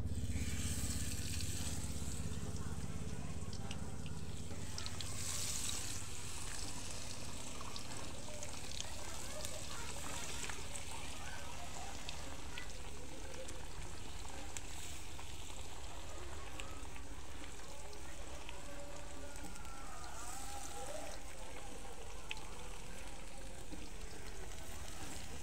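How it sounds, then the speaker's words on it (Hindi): Potato pakoras frying in hot oil give a steady, continuous sizzle and crackle that holds at an even level the whole way through, with a faint low hum beneath it. "मसाला बना रहे हैं आलू की पकौड़ी। इसको हम डालेंगे इसे तेल में।"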